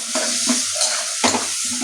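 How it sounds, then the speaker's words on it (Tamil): Tomato and onion sizzle in a hot pan while a spoon stirs and scrapes in a few rhythmic strokes, close and fairly loud. "அதுக்குள்ள தக்காளி வெங்காயம் வதங்கிடும்"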